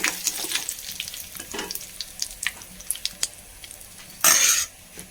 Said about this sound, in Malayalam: നമ്മൾ ഇതിലേക്ക് കുറച്ച് ഉണക്കമുളക് കറിവേപ്പില കൂടിയിട്ട് കൊടുത്തു. അതൊന്ന് മൂത്ത് വെച്ചേ.